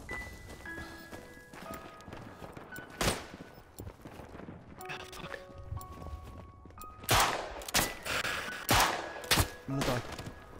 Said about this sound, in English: They have an MG activated that just wiped out our front.